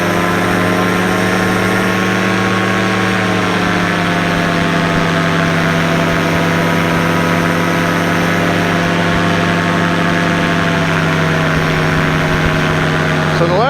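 A powered paraglider engine drones continuously in flight, a loud steady propeller buzz with strong harmonics that shifts pitch slightly as the throttle changes, close and unbroken throughout.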